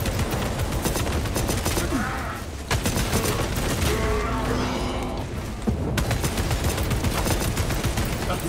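Krak grenade and gunfire in Warhammer 40,000: Space Marine 2, a dense, loud barrage of rapid shots and bursts with a heavy blast, continuous but for a brief lull.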